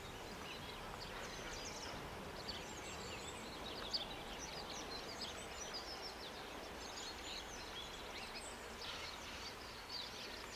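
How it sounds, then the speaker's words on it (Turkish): Birds sing in a Datça countryside setting in spring, with scattered high chirps and twitters spread over a steady, hissy outdoor background, fairly faint and distant throughout. "Biraz kuş seslerini de dinleteyim size."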